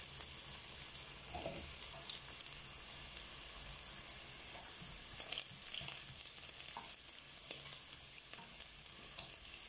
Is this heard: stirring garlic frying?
yes